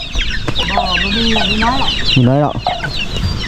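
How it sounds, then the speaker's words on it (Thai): Chicks cluck and peep in a Hmong village, Ban Kaeo Kut in Muang Kuan, Houaphanh Province, Laos, with loud, close, rising and falling chirping calls that run almost continuously while a person speaks briefly. "นี่คือลูกไก่"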